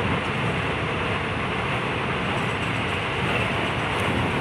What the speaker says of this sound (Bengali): ট্রেন চলে চলেছে।